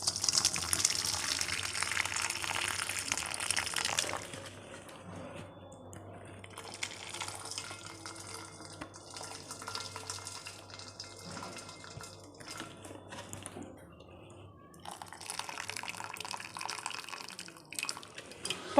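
Excess water draining off cooked turkey berry dal in a kitchen pot, a steady splashing and trickling pour that comes in a loud first burst, eases to a softer run, then swells again near the end.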